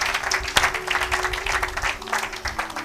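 A congregation at a French-language church service applauds together, producing sustained, even clapping throughout with one sharp louder clap early on and no distinct voices.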